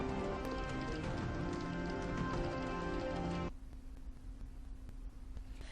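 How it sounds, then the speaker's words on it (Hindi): Heavy rain pours down in a dense, loud hiss. Partway through it drops abruptly to a quieter, steady wash with a low hum underneath. "तेज बारिश हो रही है।"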